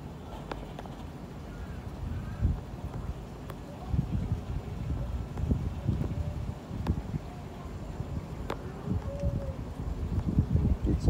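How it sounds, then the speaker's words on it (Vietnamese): Strong wind blows across a river ahead of rain. It makes a steady, gusty rumble with rustling and buffeting on the microphone, and it grows louder toward the end. "Gió bây giờ đang ngày một to dần, bầu trời đen xì rồi, sắp mưa, gió thổi rất to"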